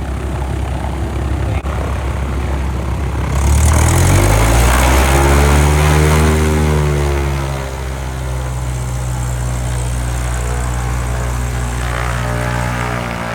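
Seaplane propeller engine at a lakeside fly-in in Tavares, Florida, droning steadily as it lands, swelling and shifting pitch as it passes near, then holding a softer steady hum with the power off.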